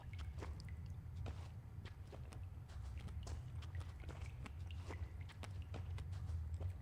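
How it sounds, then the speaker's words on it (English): Footsteps walking steadily through a damp space in the video game Reverse: 1999, with a regular rhythm of soft steps over a low ambient rumble and faint drips, no voices. "Only sound of dripping water, footsteps can be heard."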